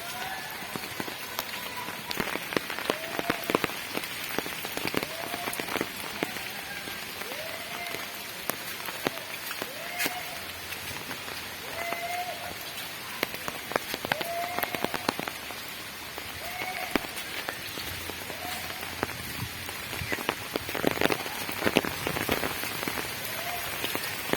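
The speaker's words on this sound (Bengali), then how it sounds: "বৃষ্টি এখনো হচ্ছে" Steady rain patters loudly on surfaces throughout, with a dense spray of drops and faint intermittent chirps behind it.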